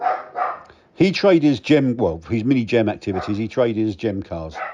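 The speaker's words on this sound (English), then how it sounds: "Excuse the dog barking." A Dachshund barks indoors while someone talks steadily about cars, the dog's yaps partly buried beneath the continuous speech.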